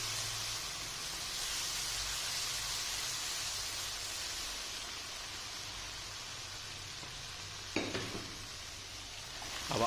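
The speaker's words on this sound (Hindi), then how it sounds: "इसको भून लेंगे थोड़ी देर।" Spices and chopped green chillies fry in a pan with a soft, steady, hiss-like sizzle that stays fairly quiet throughout, interrupted once near the end by a brief utensil knock. No speech.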